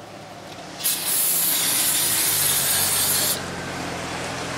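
A cloth rag rubbed across the gasket surface of a Toyota Corolla engine during a starter replacement, a close, steady scrubbing hiss lasting about two and a half seconds over a quieter background.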